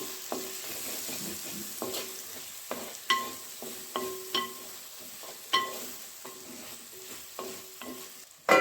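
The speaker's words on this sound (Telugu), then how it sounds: "ఇప్పుడు అదే కడాయిలో ముందుగా కట్ చేసుకున్న ఆనియన్ ముక్కలను కూడా వేసుకుని అలాగే మూడు పచ్చిమిరపకాయలను కూడా ఈ విధంగా చీలికలు చేసుకుని" Onion pieces and slit green chillies fry in a kadai, giving a steady close sizzle with repeated sharp scraping and stirring knocks at an uneven pace and no voices.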